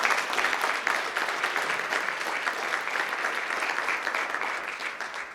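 A room applauds FAMU athletes at a Florida A&M University event welcoming a new athletic director: sustained, even clapping from a sizeable crowd, loud and continuous throughout, tapering a little at the close.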